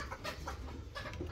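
A chicken clucks in short, soft bursts at a farm, faint and somewhat distant, repeating irregularly over low background noise.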